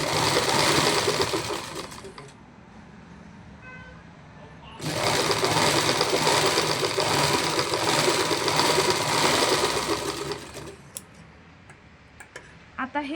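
A sewing machine stitches a blouse collar in rapid whirring bursts, running loud for a couple of seconds, pausing briefly, then running again for several seconds before trailing off into a few faint clicks.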